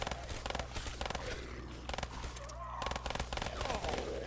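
Rapid bursts of gunfire in the video game Black Ops 3 Zombies on the Kino Der Toten map, repeated shots in clusters with a steady low game hum beneath and moderate loudness.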